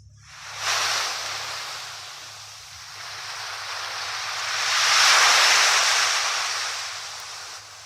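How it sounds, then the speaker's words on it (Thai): Broad, rushing wash of ocean waves in a Roblox game swells in twice, the second surge louder and longer, then recedes, with no talking over it. "เสียงคลื่นสุดอีปิก"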